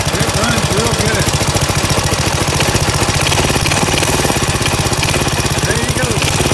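A rebuilt Briggs & Stratton 5 hp small engine idles loudly and steadily up close, its fast, even chugging continuous throughout, while a person's voice is faintly audible over it.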